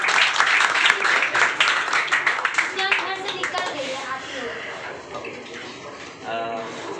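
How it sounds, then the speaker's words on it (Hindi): Clapping from a group at an Independence Day motivational session for students, strong at first and then thinning out as a voice begins speaking over the tail. "रंजन कुमार, ताली बजाया जाए।"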